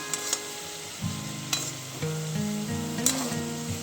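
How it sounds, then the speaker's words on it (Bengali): Moong shamli pitha sizzling as the cakes fry in hot oil, a steady close crackle with a few sharp pops and utensil clinks. "খুব ভালো করে ভাজা ভেজে নেওয়া হবে এগুলো"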